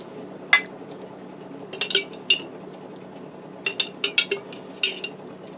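A 23-ounce glass jar of marinara sauce being handled in a kitchen, giving scattered sharp clinks and taps, a few isolated then a quick cluster, close and crisp over a quiet background.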